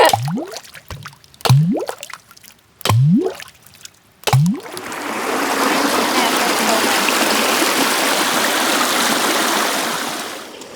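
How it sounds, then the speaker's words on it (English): A few short vocal sounds, then a small waterfall on a hiking trail creek fills the rest with steady rushing splash, continuous and fairly close. "goes over this little tiny waterfall, and then continues on down the way"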